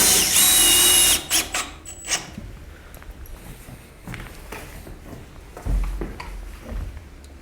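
A power drill drives screws into a log kayak and canoe storage rack. A loud whirring burst runs for about a second, then comes a clatter of handling knocks, shuffling and a heavy thump, with no talk.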